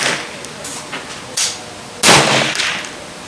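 A 10/22 magnum rifle with a heavy barrel is fired at a 25-yard range. One sharp, loud shot cracks near the end, with a fainter thump or clank heard earlier.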